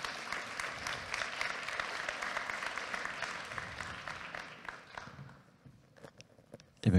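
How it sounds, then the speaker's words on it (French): Audience at an evening closing event of a Web3 incubator applauding as teams come on stage, sustained clapping that thins out toward the end before a few louder knocks. "j'appelle les équipes de Ziplo, Aurélie et Clément à me rejoindre sur scène sous vos applaudissements"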